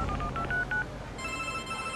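Telephone keypad tones beep in quick succession as a number is dialed, followed by a steady ringing tone, in a radio advert for a mobile phone service; clear and close with no talk.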